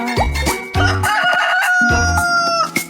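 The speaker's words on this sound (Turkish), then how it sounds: "Çiftliğinde horozları var" A loud, close rooster crows in a long drawn-out call, followed by clucking and more crowing from the bird, with no voices.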